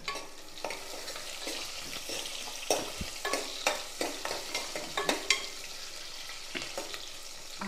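Onions sauté in a pan with a steady soft sizzle, while a spoon scrapes and taps through them in repeated strokes, close and fairly quiet.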